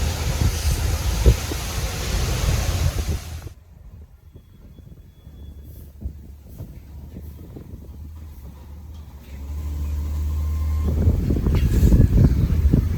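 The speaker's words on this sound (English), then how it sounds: "right now sitting outside enjoying the wind" Wind blowing outdoors on a morning, a broad rushing roar buffeting the microphone, dropping briefly to a calmer hiss before gusting strongly again toward the end.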